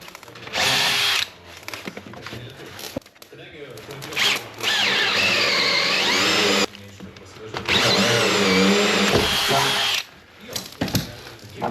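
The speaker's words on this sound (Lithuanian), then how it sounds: "Skylėm gręžti karkasę naudoju tokią smeigę." Cordless drill with cold batteries boring holes into a frame during a small cabin renovation, in several loud whirring bursts separated by pauses, with speech during the gaps.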